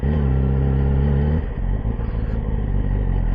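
A Yamaha R6 motorcycle engine idles low and steady up close, a deep continuous rumble that roughens slightly partway through, with no voices.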